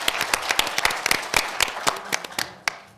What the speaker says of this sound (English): Thank you to our panelists. Give them a big round of applause